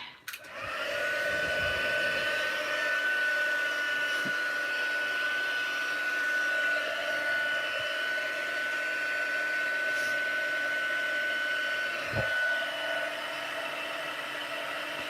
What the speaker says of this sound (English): Right, heat tool